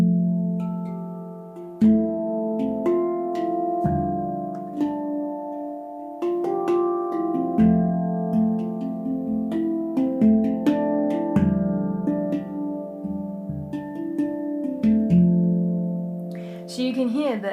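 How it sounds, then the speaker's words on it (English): A handpan played in broken chords, with each chord rolled as an arpeggio of ringing, bell-like metallic tones that overlap and sustain, close and moderately loud, with no voice. "even though I'm playing chords here, I'm actually breaking them up a little bit"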